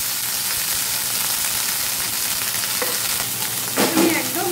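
Chopped vegetables and curry leaves frying in a little oil, a steady close sizzle with occasional stirring clatter and a sharper burst of spitting near the end.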